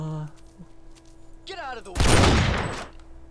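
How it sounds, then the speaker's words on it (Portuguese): In the video game SA-MP Rust, a loud burst of gunfire erupts partway through and rings out for about a second. Softer game sounds and a voice come before it. "Um tiro. Um cara morto."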